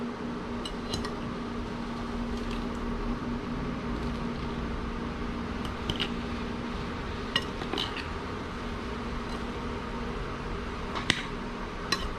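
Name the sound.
mixing salad in a bowl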